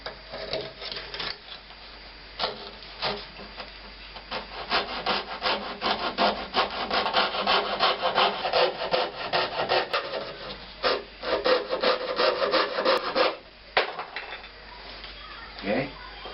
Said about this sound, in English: Gonna saw out the part for the headstock with me little jigsaw.